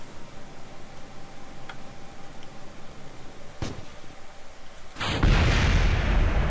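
A rocket explosion in a space program video game: a deep, broadband blast bursts in near the end and sustains as a loud rumbling roar, preceded by a brief sharp crack and steady background hum.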